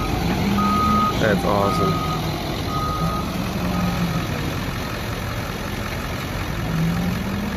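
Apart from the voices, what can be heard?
large loader reversing beeps and engine idling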